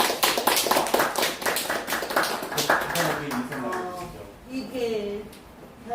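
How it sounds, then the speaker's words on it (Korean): Hall audience clapping to welcome a speaker at a disability-day talk show, a brisk burst of applause that fades within a few seconds, then a voice speaks alone. "박수로 환영해 주시죠"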